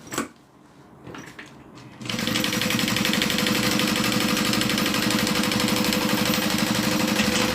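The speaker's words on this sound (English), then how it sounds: "Open it up and do a top stitch." A sewing machine top stitching around the zip of a zip-around wallet, starting after a few handling clicks and then running as a loud, steady, fast mechanical whir close by.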